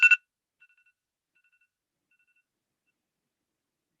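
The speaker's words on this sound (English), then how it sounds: "Okay, excuse my rude cell phone there." A cell phone gives a short, loud two-tone electronic chirp up close, then faint repeating beeps fading into near silence.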